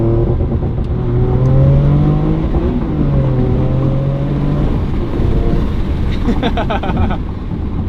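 A car engine revs hard at high RPM, loud and close, with the rising and falling pitch sweeping up and down in a continuous roar.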